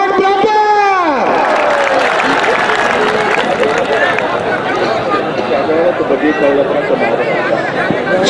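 Crowd noise at an outdoor kabaddi match in Pakistan, with steady broadband applause and cheering under a loud voice that rises and falls at the start, continuing as a dense, constant wash throughout.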